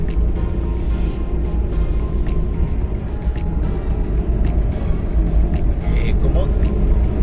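Suzuki DA17V van with a 4x2 Tiptronic AGS gearbox accelerating on a busy road, a loud steady engine drone with road noise from inside the cabin, while someone talks over it.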